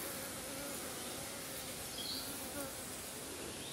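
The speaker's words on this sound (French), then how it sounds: "C'est le bel essaim que j'ai récupéré" Dense, continuous buzzing of a honey bee swarm close by, a steady droning hum with no pauses.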